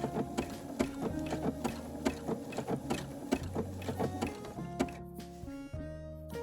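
Close, steady sewing machine stitching binding onto a quilt, its rapid rhythmic needle clatter pulsing evenly throughout, with slight shifts in pitch as the speed changes.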